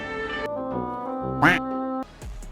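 A duck gives a loud, close quack with a nasal, rasping burst in the middle. It sits over a background of steady tones and is followed by a few short clicks.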